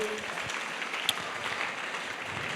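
A church congregation applauding and cheering at a service, a dense, steady wash of clapping filling the space from start to finish, with one sharp accent partway through and faint voices mixed in.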